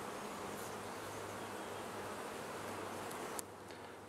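Honey bees buzz steadily around an open hive during an inspection of brood frames holding worker brood, bee bread and honey, a dense continuous drone close by with no talking.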